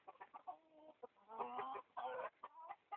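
Shamo chickens, a Japanese gamefowl breed, cluck and murmur in short bursts, a few overlapping calls rising and falling close by with brief pauses between them.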